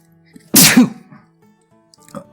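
A single sharp, loud sneeze from a person indoors, bursting out once and fading into quiet with a faint sound after.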